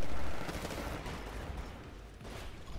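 Rapid gunfire crackles in the Titanfall video game as the player is shot at, a dense, loud burst of shots with no talk over it.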